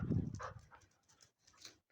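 A dog growls low and close at first, followed by soft, quieter grumbling sounds and faint breathy noises over a couple of seconds.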